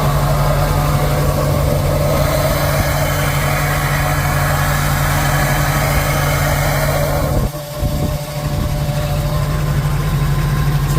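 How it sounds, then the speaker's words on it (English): A loud blower on the engine of the Wasteland Wagon, a custom build, runs with a steady droning whine and a deep rumble, then briefly dips near the end before resuming. "the blower makes a lot of noise"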